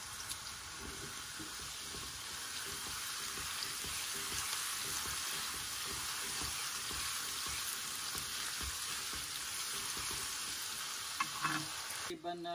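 Garlic and curry leaves frying in a pan, a steady close sizzle with scraping stir strokes throughout, a brief clatter near the end, no talking.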